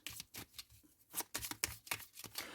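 Tarot cards are shuffled for a reading in a run of quick, soft riffling slaps and flutters, close and fairly quiet, with small pauses between bursts.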